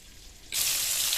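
Whole spices crackling in hot mustard oil for Bengali doi potol, a steady bright sizzle that starts suddenly partway through and holds, fairly soft and close.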